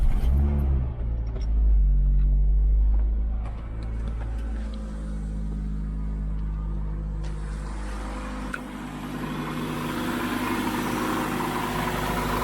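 A Toyota Corolla XRS engine rumbles at idle close by, with a deep steady throb and some rattling, its tone shifting slightly partway through.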